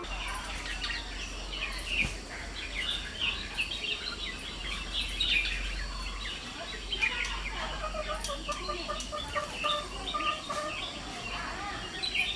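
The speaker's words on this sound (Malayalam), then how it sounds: "ഇത് മറ്റേ ബുൾബുൾ എന്ന് പറയാം ഈ കിളീൻ്റെ പേര്." Red-vented bulbuls calling around a house: scattered chirps and short whistled notes, moderately distant, over steady low background hum without speech.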